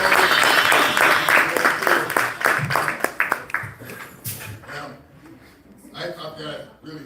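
Open mic audience in Atlanta applauding the host, dense clapping that thins out and fades into scattered claps with voices talking over it.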